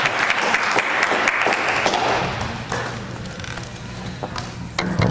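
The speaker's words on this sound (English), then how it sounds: "how about a warm round of applause for Dr." Applause from the audience greets a speaker at a Jacobsen syndrome conference, brisk clapping loud at first then thinning out, with a few hollow wooden knocks and thumps scattered through it.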